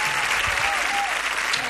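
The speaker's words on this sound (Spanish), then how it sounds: "Con este cariñoso aplauso de todos ustedes" A studio audience applauds Argentine singers Sandra Mihanovich and Celeste Carballo on a 1987 television variety show, the clapping dense and steady throughout with a faint hum beneath it.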